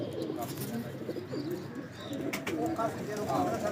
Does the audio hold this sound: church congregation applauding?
no